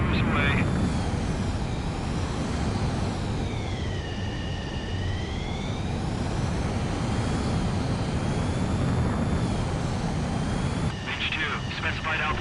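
A fighter jet launches in the video game Ace Combat 7, a steady, heavy engine roar with a rising and falling whine riding on top, loud and continuous throughout.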